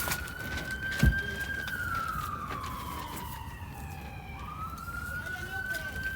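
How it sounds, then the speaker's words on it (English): A fire station siren wails steadily in Long Beach at noon, its pitch sliding down and back up, heard from nearby across an outdoor lawn bowling green, with a single sharp knock early on. "We have some sirens."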